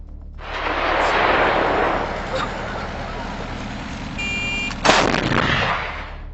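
Self-propelled artillery gun firing: a long, heavy roaring blast that rolls on for several seconds, then a second sharp report near the end, loud and booming with no voices.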